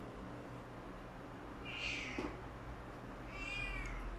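A house cat meows indoors, two drawn-out meows about a second and a half apart at moderate loudness. Soft room noise sits under them and no one speaks.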